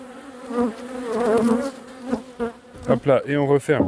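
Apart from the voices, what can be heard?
honeybees flying around a beehive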